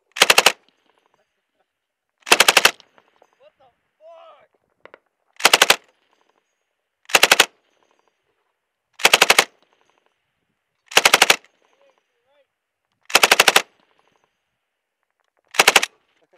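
Machine gun fire aimed at a building in Helmand, Afghanistan, with Marines nearby: short loud bursts of automatic gunfire repeating about every two seconds, separated by silence, with faint voices between some bursts.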